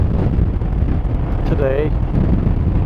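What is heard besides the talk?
wind while riding a Honda PC800 motorcycle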